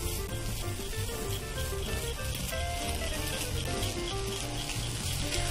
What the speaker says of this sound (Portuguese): Então, a gente frita bem fritadinho aqui, até ele dar uma douradinha.